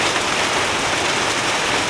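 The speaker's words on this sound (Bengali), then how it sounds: "টিনের চালে এখন শব্দ পাওয়া যেতেছে বৃষ্টির।" Downpour pounding a tin roof at a market stall, loud, close and continuous, a thick even hiss of drops without pause or speech.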